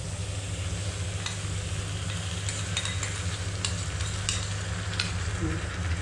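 Chicken sizzles in a pan as sour yogurt, melon seed and cashew paste is stirred in. A steady loud frying hiss runs under occasional scraping strokes of the spoon.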